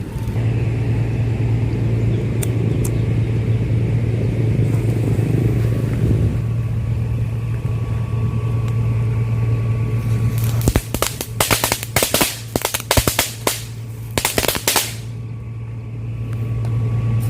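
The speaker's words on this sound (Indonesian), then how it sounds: "jadi kayak gitu tuh kalau petasan cabai teman-teman" A low engine rumble hums steadily, then a rapid burst of loud chili firecracker pops crackles for several seconds before fading back to the drone.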